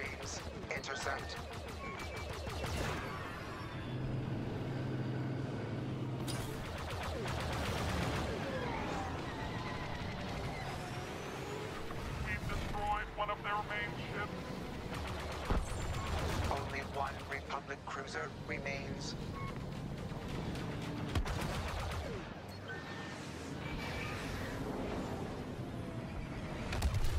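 Star Wars Battlefront 2 starfighter combat: rapid bursts of blaster fire crackle amid engine roars and explosions, dense and loud, with radio-style voice commands speaking over the battle throughout.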